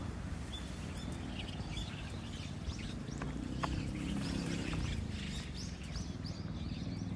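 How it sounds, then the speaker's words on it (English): Birds call outdoors near Mt. Fuji at sunrise, scattered chirps and tweets coming from a distance over a steady rush of wind or ambient noise. "lot of birds."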